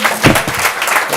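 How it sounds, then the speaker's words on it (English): Audience applause at the close of a university public lecture on Indigenous languages and the justice system, a dense sustained clapping from the crowd with no voices over it. "Another round of applause."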